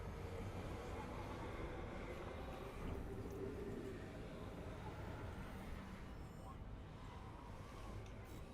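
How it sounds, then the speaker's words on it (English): A frameshift drive charging in Elite Dangerous gives a steady, heavy, droning rumble that holds at an even level the whole time, with a faint voice under it. "Frameshift drive charging."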